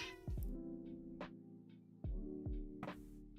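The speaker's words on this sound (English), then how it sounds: "I don't know if you can hear my cat" A domestic cat meows and yowls close by, with several distinct drawn-out calls in an uneven rhythm over a quiet room.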